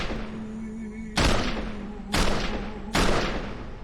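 Three loud, sharp gunshots from a film scene ring out at roughly one-second intervals, each a sudden blast over a quieter tonal background.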